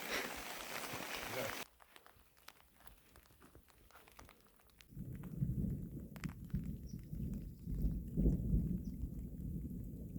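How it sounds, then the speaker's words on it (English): A thunderstorm with rain and hail at a backpacking campsite near Cottonwood Lakes: a loud burst of downpour cuts off, then low rumbling thunder and pattering rain build and roll on, with occasional faint voices. "Rain, hail, thunder, lightning."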